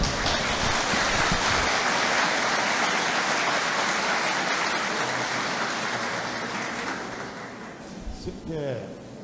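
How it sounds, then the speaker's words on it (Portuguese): An audience claps steadily to welcome a guest speaker onto the stage at a Spiritist lecture, a loud dense applause that fades gradually toward the end. "Vamos recebê-lo com uma salva de palmas."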